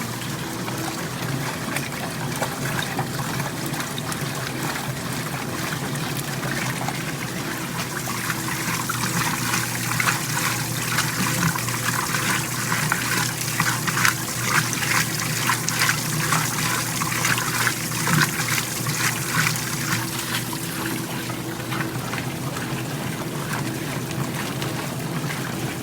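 Water trickles and splashes steadily into a washing machine tub as it fills, a continuous close bubbling rush that grows somewhat busier midway through, with no voices.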